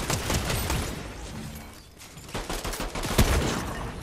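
Gunfire in Fortnite: dense, rapid volleys of shots crackle almost nonstop, loud and close, easing briefly before resuming in a heavy burst.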